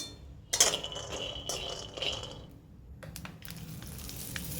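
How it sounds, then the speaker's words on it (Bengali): Steady sizzling of peanuts frying in a pan, with sharp metallic clinks and scrapes of a utensil near the start; no one speaks. "এই যে খিচুড়ির জন্য এখানে বাদাম ভাজা হচ্ছে"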